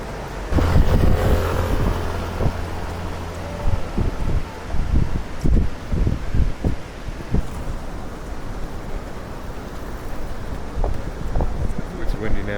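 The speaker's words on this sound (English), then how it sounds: "it's windy now" Gusty wind buffets the microphone in low, rumbling bursts, rising and falling for several seconds with no clear voices.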